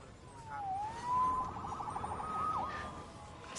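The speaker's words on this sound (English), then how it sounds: "Saved by the siren." A police siren wails in the Amazing Spider-Man PS4 video game, a sweeping, fairly faint tone heard under street ambience that rises and falls and then yelps briefly near the end.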